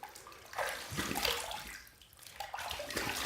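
A shaving brush is rinsed under running water, giving close, uneven splashing and gurgling that swells and dips as the brush moves through the stream.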